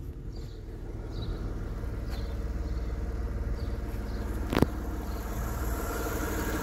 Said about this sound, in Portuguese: é um motor que está realmente muito bem equilibrado